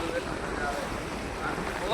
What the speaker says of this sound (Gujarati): પવનની વાત જ ન પૂછો કુદરતી એસી કુદરતી એર કન્ડિશન કહેવામાં આવે છે